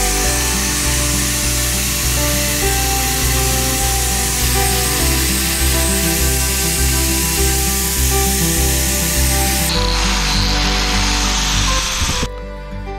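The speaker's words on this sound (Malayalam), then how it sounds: "കുറച്ച് ഭാഗം നമ്മൾ കട്ട് ചെയ്തിട്ട് വീണ്ടും നമ്മൾ ചാംഫർ ചെയ്ത്" A power tool cuts and chamfers the corners of tiles for a DIY tiled table, giving a loud, steady high-pitched grinding whine with a pulsing rhythm that changes pitch near the end and then cuts off abruptly.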